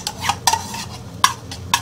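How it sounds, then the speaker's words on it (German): Small onions sautéing in melted butter, soft sizzle broken by four sharp scrapes and clinks of a utensil stirring against the pot at an uneven pace, close and clear with no talking. "ich zerlasse jetzt die Butter und dünste die Zwiebelchen an"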